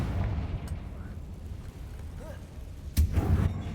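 A Confringo blasting spell explodes in Hogwarts Legacy: one sudden, loud burst with a deep low thump, heard over a steady rumbling game background.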